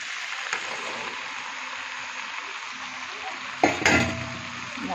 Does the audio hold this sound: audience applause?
no